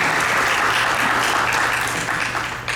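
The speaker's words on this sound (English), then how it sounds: "Big round of applause for her" Audience applause at a Thyagaraja Utsavam Carnatic music concert, a loud dense burst of many hands clapping that holds steady and then begins tapering off toward the end.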